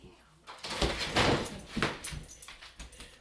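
A puppy gives a few brief whimpering and whining sounds up close, mixed with soft handling noises and movement around it in a quiet room.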